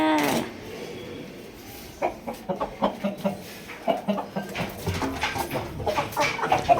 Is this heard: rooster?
yes